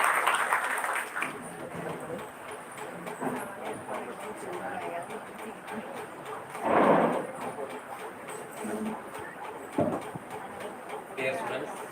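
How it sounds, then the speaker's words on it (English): A hall audience of students applauds a chartered accountant guest at an insolvency-profession awareness programme, a steady wash of clapping that stays moderately loud throughout, with brief louder swells and a speaking voice over it. "Let us give a round of applause to S. Prabhu, Chartered Accountant"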